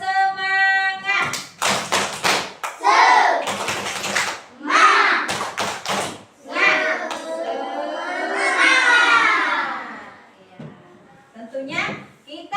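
School class in Indonesia doing the rhythmic tepuk semangat clapping chant, children's voices chanting together between sharp bursts of patterned hand claps, close and lively.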